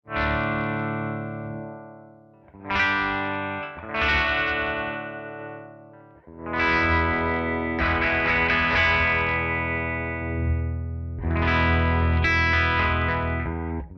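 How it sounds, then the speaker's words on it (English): Electric guitar through the swell effect of a Hologram Chroma Console pedal, each strummed chord fading in gradually from silence to a full sustained tone, several soft-attack swells heard alone. "we have swell"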